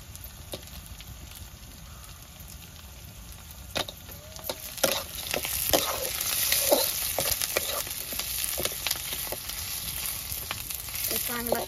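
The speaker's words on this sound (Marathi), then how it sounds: "चांगला कांदा भाजलाय तेलामध्ये" Onion frying in oil in a pot over a village wood-fired chulha, a continuous sizzle that grows louder midway, with scattered stirring knocks and scrapes and no talking.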